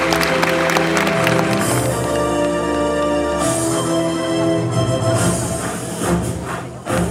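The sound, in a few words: audience applause at outdoor janggu performance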